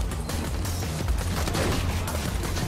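Rapid gunfire from a weapon in the video game Borderlands 2, a dense continuous volley with booming low end that fills the whole stretch, loud and close.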